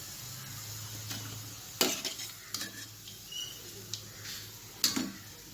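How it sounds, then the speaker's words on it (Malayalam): Cauliflower fries in oil for cauliflower chilli under a faint, low sizzle, with several sharp metallic clinks and scrapes from a utensil against the pan. No one talks. "എന്നിട്ട് നമുക്ക് ബാക്കിയുള്ളത് കൂടി ഇതുപോലെ വറുത്തെടുക്കാം."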